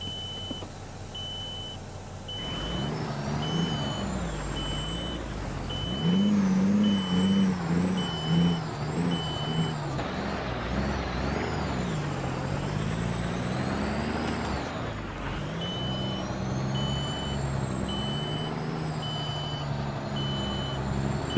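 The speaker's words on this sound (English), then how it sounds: "a truck that's gone beep, beep, beep" Reversing beeps from a heavy truck in a trucking simulator game, a steady repeating electronic tone over a loud engine drone, with air-brake hisses and engine revs, and no talk.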